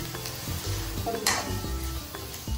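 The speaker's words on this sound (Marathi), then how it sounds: "हा मसाला टाकून चांगला मिक्स करणार आहे आपण" A masala of turmeric, kasuri methi and red chilli powder is stirred in a hot pan for butter chicken, a close sizzle broken by rhythmic spatula scrapes and one brief louder hissing burst, with no one speaking.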